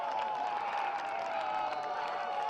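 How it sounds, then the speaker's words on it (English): Spectators at a college club soccer match between Michigan and MSU keep up a steady, distant crowd roar with scattered claps and shouts, with no one talking over it. "The crowd is making noise."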